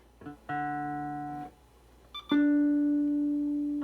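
Two sustained notes on a 1992 Fender Stratocaster, one after another, each ringing with a shimmering, chorus-like waver and out of tune; the second note is louder and holds steadily.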